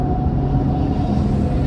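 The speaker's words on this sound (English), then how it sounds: "but that's a loud old truck." A loud old truck passes close by, its heavy engine rumble a steady, dense low drone that holds throughout without any voices over it.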